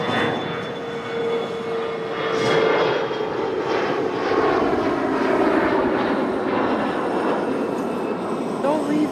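A Lufthansa Boeing 747 at Toronto airport gives off a broad, sustained jet roar that swells and stays steady at moderate distance.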